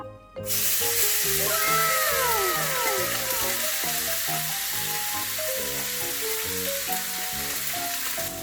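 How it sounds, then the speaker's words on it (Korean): Pork belly frying in a generous amount of hot oil for jjamppong-style ramen, a loud, steady close-up sizzle and crackle that runs continuously with no talking. "기름은 많이 들어가요 많이 먼저 고기부터 넣도록 하겠습니다"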